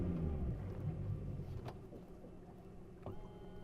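A Suzuki fly-by-wire outboard boat motor, out on the water, turns over and settles into a steady low idle, with a deep rumble that stays fairly constant and close.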